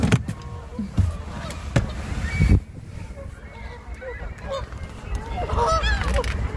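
A noisy flock of hundreds of ducks honks and quacks close by at Niagara Falls, Canada, with scattered calls over a loud outdoor background and some voices talking.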